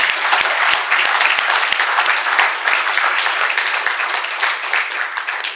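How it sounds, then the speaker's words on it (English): Loud, close applause from an audience at a community forum on affordability, many hands clapping in a thick steady wash with a few sharp individual claps standing out. "Let's give them a round of applause."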